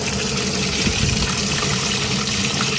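Water pouring into the livewell of a 2020 Bass Tracker boat: a steady, close rushing and gurgling flow with no break.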